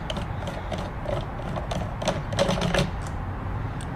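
Screws being unscrewed from the cover of a Necchi 525FA sewing machine give a continuous close metallic grinding and ratcheting, with small clicks and scrapes and no talking.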